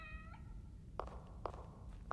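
Two or three short cat meows in the horror video game The Evil Within, fairly close and isolated over a low hum, each cry brief and spaced apart.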